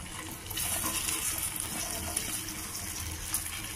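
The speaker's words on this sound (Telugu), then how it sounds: "ఈ బెండకాయ ముక్కలు నూనెలో వేసేసుకోవాలి." Cut okra pieces sizzle in hot oil in a pan, giving a steady, fairly loud hiss that fills the whole stretch with no talk.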